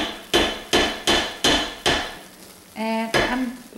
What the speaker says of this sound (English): just give it a quick stir. Make sure you scrape the edges really well.